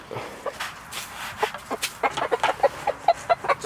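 Icelandic chickens cluck in short, sharp, repeated calls close by on a frosty morning, with the bursts growing quicker and denser toward the end and no voices present.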